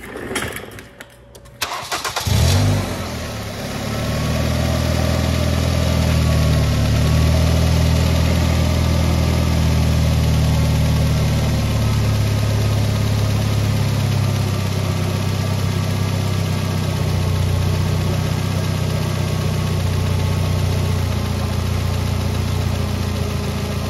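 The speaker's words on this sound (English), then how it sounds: "so I'm gonna go ahead and fire up the car" A 2006 Ford Focus engine cranks briefly and catches, then settles into a steady, loud idle that runs on evenly with no talking.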